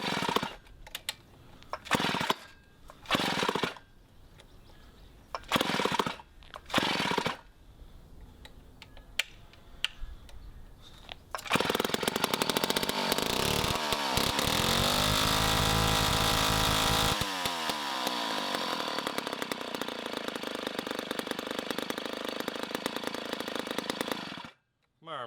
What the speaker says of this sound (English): It is a very loud saw for now.